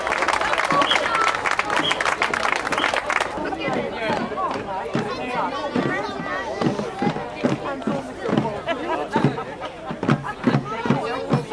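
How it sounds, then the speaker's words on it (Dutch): Crowd applause breaks out for a marching group at a children's shooting festival, dense clapping at first that thins into scattered claps and chatter while a voice speaks over it. "applausje voor deze groep!"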